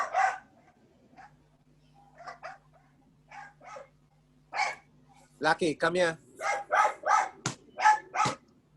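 A dog barks repeatedly in a quick, loud burst of sharp barks and yips near the end, following earlier spoken calls, with a steady electrical hum underneath.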